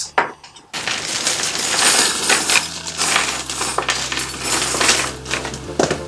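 Small plastic pegboard cups from a workshop organizer kit tumble and clatter out in a steady stream of light, hollow rattles, close and fairly loud, with no talk over them.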